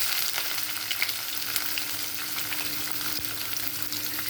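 Tempering seeds such as cumin crackle and splutter in hot oil, a steady close sizzle dotted with small popping bursts, no voices.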